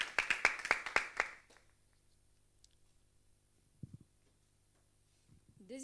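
A church congregation gives a quick burst of about seven claps to acclaim the Lord, crisp and close together, then falls quiet. A faint voice and a few small noises follow in the stillness.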